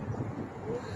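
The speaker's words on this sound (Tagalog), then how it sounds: "Maalon kasi mahangin." Wind at a seaside beach on the Corniche in Abu Dhabi: a brief, fairly loud rumble of gusts buffeting the microphone.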